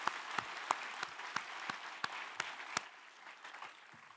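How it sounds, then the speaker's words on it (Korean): Congregation applause at a church New Year's Eve service, a dense wash of clapping with a few louder individual claps standing out at a fairly steady rhythm, easing slightly toward the end. "영광의 박수를 하나님께 드리겠습니다."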